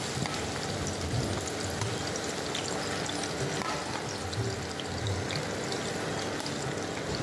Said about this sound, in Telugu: వెంటనే స్టవ్ మీద నూనె బాగా వేడయ్యాక చిప్స్ నూనెలో వేసి వేగనివ్వాలి